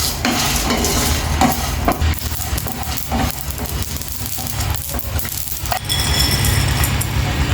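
Coconut and other ingredients frying and being stirred in a pan for a broad bean fry, with loud continuous sizzling broken by repeated scraping and clinking strokes of the spoon, the sizzle surging again near the end.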